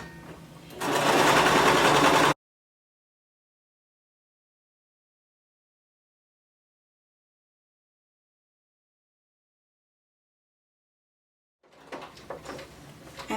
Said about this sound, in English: So go ahead and lower your needle, begin sewing,